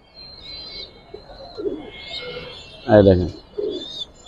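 Giribaz pigeons in a coop give a soft, low coo followed by one short, louder burst of throaty cooing. Someone talks quietly nearby, and faint chirps sound in the background.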